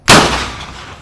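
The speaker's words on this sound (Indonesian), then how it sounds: "supaya bisa bikin mercon spiritus brand dengan suara yang keras" A homemade spirit-fuel firecracker made from a Bear Brand can goes off once with a sudden, loud, sharp blast, followed by a booming tail that slowly fades.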